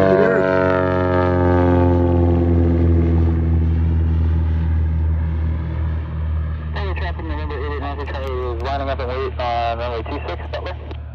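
A 1968 Cessna 182 Skylane propeller plane takes off at night, its loud, steady engine drone and harmonic whine slowly falling in pitch as it climbs away, with a voice talking over the engine near the end.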